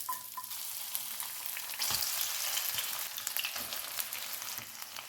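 Green peas fry in a non-stick pan, a continuous bright sizzle crackling up close, with occasional soft scrapes and stirring knocks as they are moved around.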